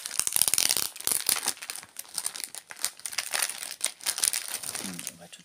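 Plastic packaging from a Noz discount store haul crinkles and rustles close up in quick, irregular bursts of handling, fairly quiet and continuous throughout.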